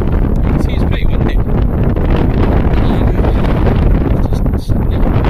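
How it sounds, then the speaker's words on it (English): Strong wind on an island coast, where seaweed lies about and a lavvu tent stands, buffets the microphone in a loud, continuous roar with gusty rustling over the whole span. "You can see it's pretty windy."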